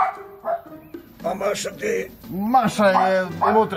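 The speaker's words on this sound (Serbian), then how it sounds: "Kakav se to pas čuje?" A dog barks and yips in short bursts, fairly close, mixed in with people talking throughout.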